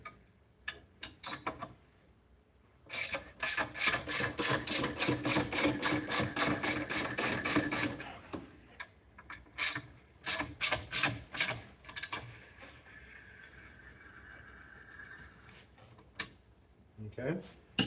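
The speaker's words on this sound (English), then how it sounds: "Next step is we're going to loosen up the bands here." Metal bands holding a tank on a trailer being loosened with a ratcheting tool: a long, steady run of rapid clicks, then shorter bursts of clicks separated by pauses, close and fairly clear.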